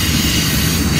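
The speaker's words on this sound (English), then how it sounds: "Little stack train just pulling in." A stack freight train pulls slowly into a Toledo rail yard in the dead of night, a steady low rumble of rolling cars close by, heavy and continuous with no voices over it.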